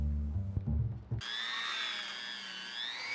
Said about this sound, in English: I broke out the rotary tool again to drill a hole in the neck